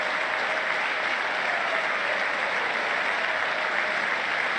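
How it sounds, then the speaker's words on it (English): A large chamber audience applauds during a presidential State of the Union address. The clapping is thick, sustained and even, heard from a distance with no single claps standing out. "I hope they get blisters on their hands from clapping too much."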